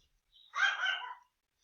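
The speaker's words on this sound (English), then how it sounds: "what would a math lesson be without a barking dog?" A dog barks once in the background during a maths lesson, a short distant yelp-like bark that is fairly faint and stands alone with no talk over it.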